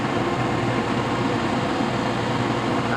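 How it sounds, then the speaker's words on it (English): Ventilation fans running in an adjoining fan room early on a Sunday morning in Bermuda make a steady, loud mechanical whoosh and hum that stays level and unbroken throughout, with no one speaking. "Sorry about the noise behind me, I'm right next to a fan room."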